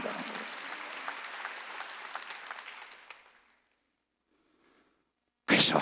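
A church congregation at a Wednesday worship service claps together in a dense, sustained burst of applause that fades away after about three seconds, leaving near silence before a sudden loud noise at the very end.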